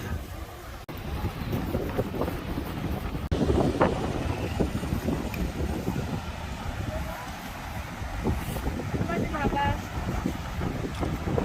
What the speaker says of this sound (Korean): 바람이 많이 불어서 막 뒤로 넘어가려고 그러는 거야?